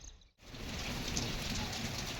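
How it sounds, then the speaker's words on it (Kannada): Heavy rain pours down in a dense, loud, unbroken roar starting abruptly after a brief gap, with no voices over it. "ಸಿಕ್ಕಾಪಟ್ಟೆ ಮಳೆ ಬಂದೆ ಮಳೆ ಬರ್ತಾ ಇದೆ"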